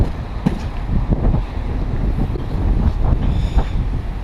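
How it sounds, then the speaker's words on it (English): A strong outdoor wind buffets the microphone with steady, rumbling gusts while a tent and banners are set up beside a van, loud and close throughout, and no one speaks. "See, it's pretty windy."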